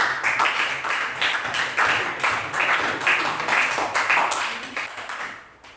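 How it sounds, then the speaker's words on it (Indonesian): Students in a classroom applaud after a group's biology presentation on genetics, a dense, steady burst of many hands clapping that fades out near the end. "Ya, tepuk tangan dulu."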